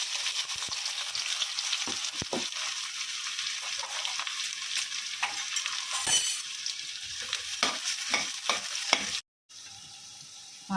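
Mustard seeds and onions fry in hot oil for a drumstick milk curry, giving a steady close sizzle. Scattered pops and stirring scrapes run through it until the sound cuts off briefly near the end.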